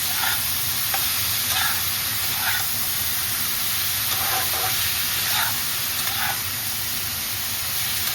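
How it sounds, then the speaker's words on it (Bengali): Vegetables and chopped tomato stir-fried over high flame for chowmein give off a loud, continuous sizzle with a steady hiss and soft scraping stirs, close up and without talk. "হাই ফ্লেমে এটা সবজিটা একটু নেড়ে চেড়ে দিতে হবে।"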